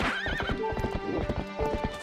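Epona, the horse in Zelda: Twilight Princess, neighs near the start, then gallops in quick rhythmic clip-clop hoofbeats close by, layered over game music.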